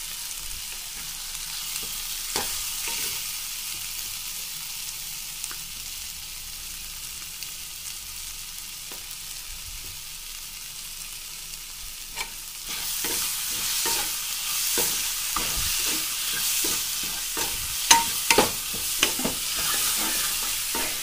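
Masala of red chilli powder, turmeric and salt frying in a pan, with steady stirring and scraping under a soft sizzle that grows louder and crackles more in the second half, close and continuous with no talk.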